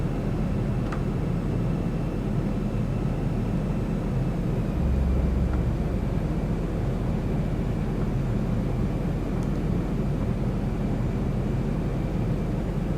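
A Boeing 737-800 in X-Plane on a manual approach with full flaps and gear down: a steady, loud roar of engines and airflow fills the cabin, with a brief low thump partway through.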